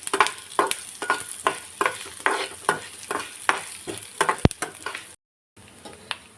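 Food frying in a pan with a utensil stirring it, rapid repeated scraping strokes over a steady sizzle, then a brief silence and quieter frying.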